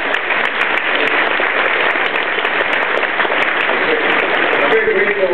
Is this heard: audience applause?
yes